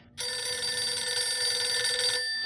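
A telephone rings steadily and loudly on a radio call-in show in the GTA IV video game, one continuous electronic bell tone starting abruptly after a brief quiet moment, with no talking over it.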